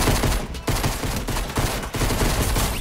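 Dense gunfire in the video game Fortnite, loud rapid bursts of shots crackling almost continuously with brief gaps, no voices over it.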